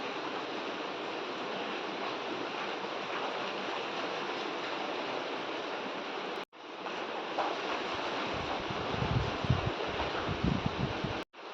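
Water from a well being drawn and poured, a steady broadband rush like a stream or splashing flow that cuts off briefly, then resumes with heavier low gushing near the end.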